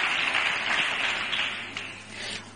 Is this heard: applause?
yes